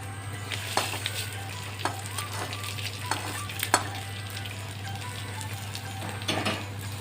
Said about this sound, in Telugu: ఇందులో వేసి మొత్తం కలిసిపోయేలా కలుపుదాము.